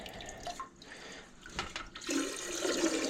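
Water is pumped out of a Kohler toilet tank in a bathroom, giving soft gurgling, sloshing and trickling sounds that stop and start before a steadier rush of water near the end.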